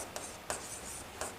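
Pen or pencil scratching on paper as notes are written during a chemistry lecture, a few brief quiet strokes with a soft steady hiss behind them, no voices.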